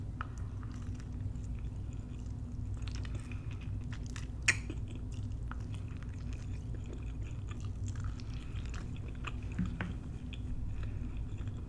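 Someone eating Jamaican oxtails and steamed cabbage up close, with soft, faint wet chewing under a steady low room hum and one sharper crunchy click partway through, no talking.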